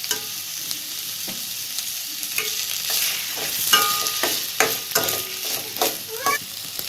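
Tomatoes cook down to a paste in a pan for karuvadu thokku, with a steady loud sizzle broken by repeated spatula scrapes and stirring clicks.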